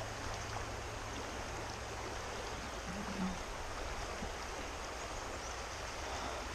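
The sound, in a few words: flowing creek water at Pine Creek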